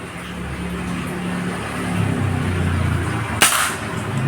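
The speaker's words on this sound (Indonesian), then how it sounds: "Tembakan ketiga" A single sharp crack from a Marauder PCP air rifle fitted with an Alfa barrel, firing a 10-gram Streamline pellet, stands out once against a steady low background hum.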